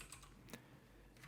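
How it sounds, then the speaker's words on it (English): Typing on a clicky Cherry MX Blue mechanical keyboard, a few sparse keystrokes heard faintly and at a distance, with no voices. "this is what it sounds like with me talking while typing on the Cherry MX Blues"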